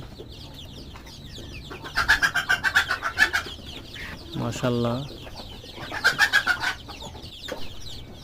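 Young chicks kept apart from the grown hens on a poultry farm, giving two rhythmic runs of bright peeping and clucking, with a voice speaking briefly between them.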